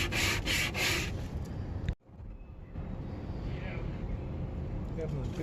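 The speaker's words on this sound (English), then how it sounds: "Change to a finer grade of sandpaper as we got close to our edge" Fine-grit sandpaper rubbing against a Vetus bow thruster part, a steady close scratchy sanding sound that stops abruptly for a moment, then goes on more softly with an engine-like hum underneath.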